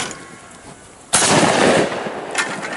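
A single loud shotgun blast at a clay target shoot, followed by a decaying echo and a fainter second report, outdoors.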